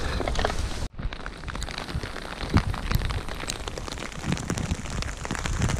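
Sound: rain falling at castle courtyard

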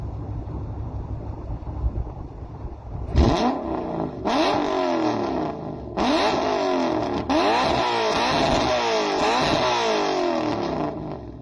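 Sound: 1UZ V8 engine with equal length headers revving

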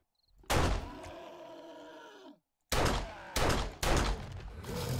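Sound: gunshots in a video game

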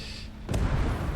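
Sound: tank cannon firing in a video game

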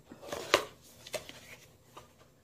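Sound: opening a planting pot package during an unboxing

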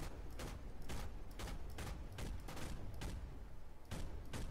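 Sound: gunfire in the video game Project Reality

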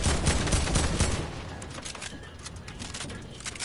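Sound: gunfire in the video game Fortnite

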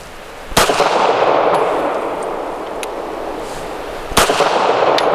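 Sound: Smith & Wesson Equalizer pistol shots, 147 grain ammunition

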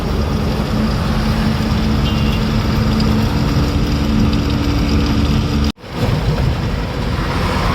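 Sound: diesel truck engine while driving

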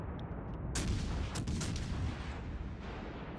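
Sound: naval gun salvos firing, Scharnhorst in World of Warships video game

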